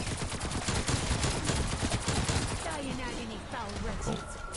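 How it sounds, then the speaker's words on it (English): A nail gun in Call of Duty Cold War Zombies firing rapid, loud, chattering bursts in a quick, steady rhythm, easing off toward the end while other game sounds continue. "This nail gun is something else."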